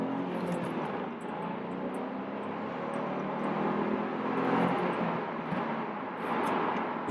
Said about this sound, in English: Let's listen to that little 3-cylinder